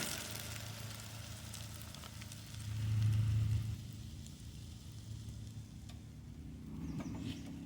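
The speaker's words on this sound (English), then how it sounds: "And just add that right into the hot fry pan." Scrambled egg mixture poured into a hot frying pan, giving a steady close sizzle with a louder swell partway through, and no talking.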